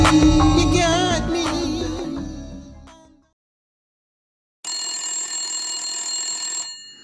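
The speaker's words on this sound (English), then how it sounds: "The shrill of her phone woke her up early the next morning." A telephone rings with a bright, steady electronic tone for about two seconds, following a brief pause after fading music.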